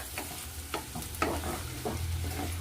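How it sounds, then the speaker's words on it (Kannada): Capsicum gojju is stirred with coriander leaves in a pan, giving soft repeated scraping strokes over a low sizzle, close and steady, with no voices. "ಕೊತ್ತಂಬರಿ ಸೊಪ್ಪು ಹಾಕಿ ಹೀಗೆ ಮಿಕ್ಸ್ ಮಾಡಿದ್ರೆ ಆಯಿತು"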